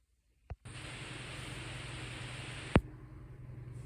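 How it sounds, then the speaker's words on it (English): A Speed Queen TC5 top-load washing machine runs behind a closed door, giving a steady, muffled broadband hum and whoosh with a sharp click or knock partway through. "you can hear that the washing machine itself is not making that much noise. You can hear it running"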